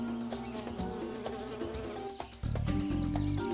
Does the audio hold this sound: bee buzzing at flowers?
yes